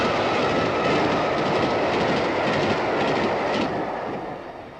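The Bristolian, a steam-hauled express train that touches over 100 miles an hour, roaring past on the rails in a dense, loud rumble with rhythmic clatter that fades slightly toward the end.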